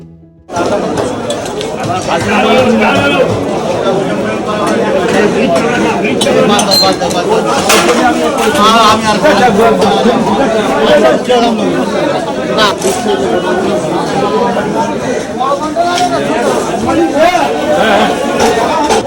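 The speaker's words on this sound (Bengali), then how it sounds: "এই চলে এলাম বাজারের ভিতরে।" A busy indoor fish market in Bengal, full of dense crowd chatter and shouting vendors, with occasional metallic clinks, loud and constant throughout.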